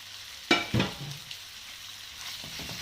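Meat drops into a hot pan for homemade tenders, a sharp hiss and clatter on contact settling into a steady close sizzle with faint stirring, no speech.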